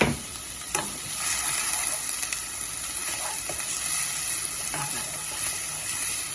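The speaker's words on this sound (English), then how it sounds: "Got a 1/3 cup of diced onions, very small." Finely diced onions, about a third of a cup, sizzle and fry steadily in a pan, with a few sharp clinks of a utensil stirring them.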